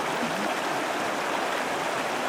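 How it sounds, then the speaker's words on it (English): Water flowing out of North Lake forms a steady stream, a continuous broadband rush close to the listener with no pauses. "little bit of water coming out of North Lake."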